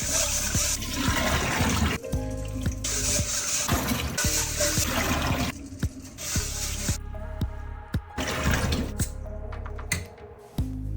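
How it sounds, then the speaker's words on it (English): Water runs and splashes in a bowl as white rice is swished and rinsed, the pouring starting and stopping several times with drips between. "Wash 100 grams of white rice 3 to 4 times until the water runs clear."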